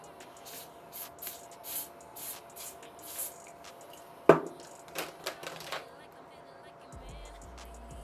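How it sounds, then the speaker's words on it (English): A few quick hissing bursts of lace adhesive spray close by, clustered together, between soft shuffling and handling noises. "now I'm going to use my Even Wonder Lace adhesive spray here to glue this down."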